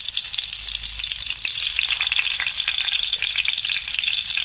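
Chopped onion fries in a pan with a steady, bright sizzle that stays close and even throughout, and no one speaks.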